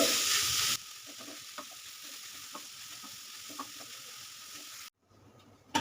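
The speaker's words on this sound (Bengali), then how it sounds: "ঘিয়ের মধ্যে আমি গাজরটাকে প্রথমে একটু ভেজে নেব গাজরটাকে ঘি দিয়ে খুব ভালো করে ভাজতে হবে" Grated carrots frying in ghee in a pan on a lowered flame, a soft continuous sizzle with occasional stirring taps, cut off by a brief near-silence at the end.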